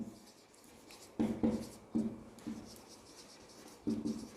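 Pen scratching on paper as words are written out, soft close strokes in short uneven bursts with small pauses between them, quiet and with no voice.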